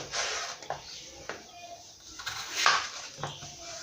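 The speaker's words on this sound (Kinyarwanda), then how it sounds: "Ndabanza nkate ibirayi byanjye." A knife cuts potatoes on a board in a home kitchen, producing a few soft, irregular chopping taps and light clinks, close and fairly quiet.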